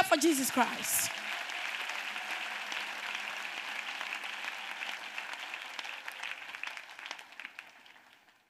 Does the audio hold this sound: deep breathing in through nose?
no